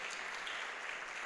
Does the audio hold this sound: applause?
yes